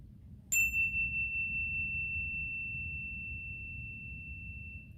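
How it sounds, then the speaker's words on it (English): One chime is struck once, giving a bright metallic strike followed by a clear pure tone that rings and fades slowly over several seconds over a low background hum. "This is a chime, so let me show you how it sounds."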